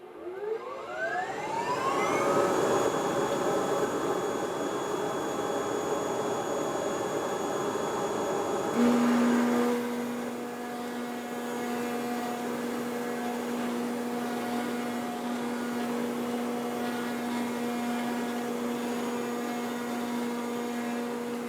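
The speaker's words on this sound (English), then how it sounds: "cutting out my pattern on this machine called the Flash Cut" A Flash Cut pattern-cutting machine runs with a loud, steady motor whine that rises in pitch as it spins up, then settles into a constant drone with a shift in tone partway through, no speech.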